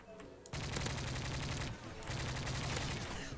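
Bursts of automatic gunfire in Call of Duty Modern Warfare 3, loud and rapid, with a sharp start after a short quiet lead-in, a brief lull near the middle, then another sustained volley.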